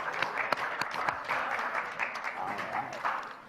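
Steady applause from a debate audience, with sharp individual claps rising above a dense wash of clapping throughout.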